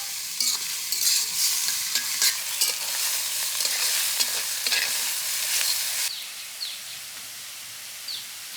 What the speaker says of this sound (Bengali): পেঁয়াজ ভাজার সময় একটু ঘি দিয়ে দিই